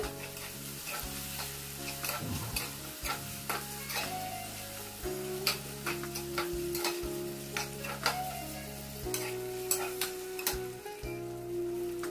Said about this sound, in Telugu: ఇప్పుడు లైట్ బ్రౌనిష్ కలర్ వచ్చినాక వేపుతూ ఉండాలండి